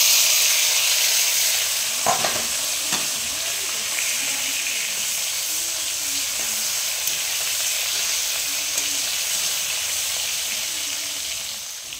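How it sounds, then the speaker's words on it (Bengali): Singi fish frying in hot oil in a home kitchen, a loud, steady sizzle and crackle that holds throughout, with a few sharp pops and faint clatters and slowly easing near the end. "তেলটা গরম হয়ে গেছে, মাছটা ভেজে নেব।"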